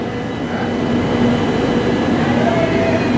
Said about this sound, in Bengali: প্রথম দিনের প্রথম মেট্রোর প্রথম স্টেশন দমদম ক্যান্টনমেন্ট থেকে আমাদের ট্রেন রওনা দিল